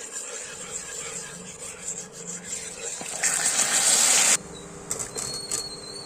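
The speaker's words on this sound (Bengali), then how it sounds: "ক্যারামেল রেডি হয়ে যাচ্ছে এবার একটু জল দিয়ে দেবো একটু জল" Water poured into hot caramel in a pan for raw mango pickle, a steady gushing, bubbling hiss that swells for about a second before cutting off, followed by quieter kitchen clinks.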